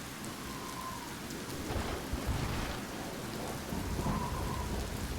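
Steady rain with low rumbling thunder serves as an ambience effect, a continuous wash of rainfall at moderate level with soft rolls of thunder swelling and fading, no voices.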